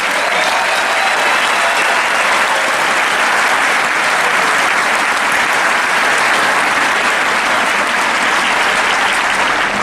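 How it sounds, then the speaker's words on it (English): Large audience at a conference event delivers loud, continuous applause, a thick unbroken wash of clapping that holds at full strength for about ten seconds. "Round of applause."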